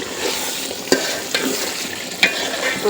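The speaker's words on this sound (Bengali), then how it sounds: "গোশত কষানো হয়ে যেতেছে।" Beef stir-fried as kosha in oil sizzles steadily and loudly up close, with a few sharp spatula scrapes against the pan and no talk.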